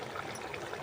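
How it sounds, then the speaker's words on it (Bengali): Water is poured into a curry pan holding spice paste for a capsicum dish, giving a faint, brief trickling stream under a second long. "জলটা দিয়ে দিচ্ছি।"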